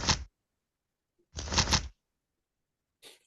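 A blackjack game app plays short digital card-shuffle riffles, two quick crisp bursts and a fainter third, separated by silence.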